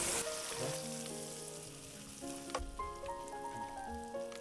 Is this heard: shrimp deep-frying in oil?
yes